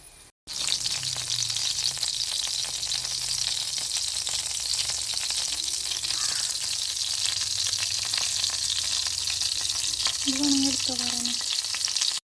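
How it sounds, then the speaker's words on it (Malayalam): Raisins sizzle in hot ghee for payasam, a steady close frying hiss that runs throughout with no one speaking. "ഇതിലേക്ക് നമുക്ക് കുറച്ച് മുന്തിരിയും കൂടെ ചേർത്തൊന്ന് വറുത്തിട്ട് ഈ പായസത്തിലേക്ക് ഇടാം"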